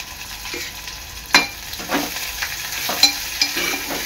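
Onion frying in hot oil for a dry Bombay duck and potato curry, a steady close sizzle broken by several louder stirring scrapes and clacks at irregular moments, with no voices.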